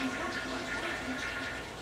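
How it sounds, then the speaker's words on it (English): A toilet flushes in the background of a kitchen while sloppy joe sauce is cooked, a steady rushing of water heard alone and fairly clear for a couple of seconds. "It's just a toilet flushing in the background."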